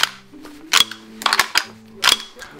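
A VFC PPSh-41 gas blowback airsoft rifle cycles on gas with an empty magazine, giving four sharp, close mechanical clacks at uneven intervals over a faint low hum.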